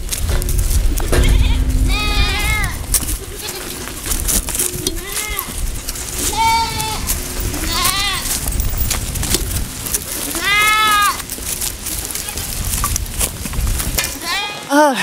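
Goats on a homestead, around a new kidding stall, bleat again and again, several wavering calls coming close and at varied pitch over a busy barn background, with some people talking.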